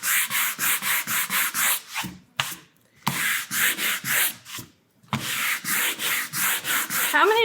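A painted wooden sign is hand sanded with fast, even rasping strokes in three runs split by short pauses, loud and close-up with no talking.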